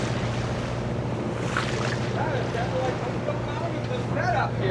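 Steady wind roars across open water off Alaska with a constant low rumble, and voices talk faintly underneath while jigging for Pacific cod from a boat.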